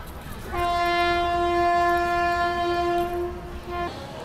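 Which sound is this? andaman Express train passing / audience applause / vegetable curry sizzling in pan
andaman Express train passing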